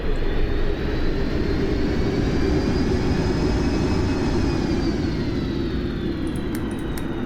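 An Avro Vulcan jet bomber's thrust reversers roar on landing in a flight simulator, a loud, broad, continuous rushing jet noise with a faint high whine slowly falling in pitch.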